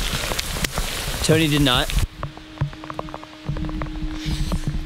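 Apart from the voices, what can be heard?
heavy rain falling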